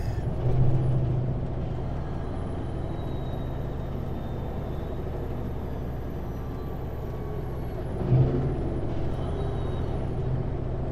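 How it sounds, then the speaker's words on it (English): Road sweeper truck clearing winter gravel and sand off a highway, a steady broad mechanical roar and hiss with two short louder bursts, heard alone with no talk. "Just road cleaning? Yeah, sweeping. There's road sweeping."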